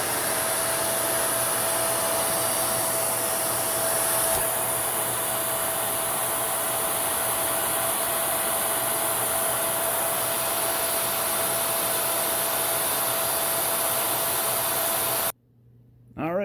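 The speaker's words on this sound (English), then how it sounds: "we'll take the airflow test, and then we'll convert over to the HEPA and then see how it does" A Shark Ultra Big vacuum cleaner runs steadily during an airflow test, a loud continuous whoosh and motor whine with a steady tone, holding for about fifteen seconds before cutting off abruptly near the end.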